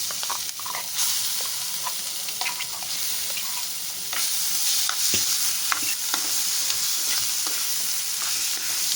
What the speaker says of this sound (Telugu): పచ్చడి వేసేస్తున్నాను ఇందులోనే.